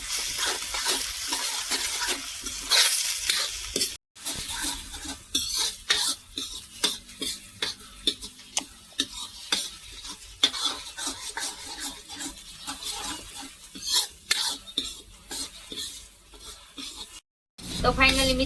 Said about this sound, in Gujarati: હવે આપણે એને તેલમાં સસરવા દઈશું ડુંગળીને થોડીક વાર